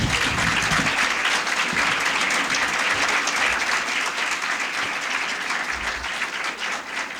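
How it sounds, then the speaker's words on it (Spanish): Sustained audience applause from a live talk-show crowd, a dense steady wash of many hands clapping at full volume throughout, with no voices over it. "por favor, un aplauso"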